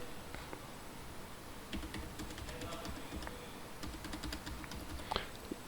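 Keys tapped on a computer keyboard while entering year-end tax settlement data in accounting software, scattered light clicks in short bursts, moderately close, over a low room hiss with a voice speaking.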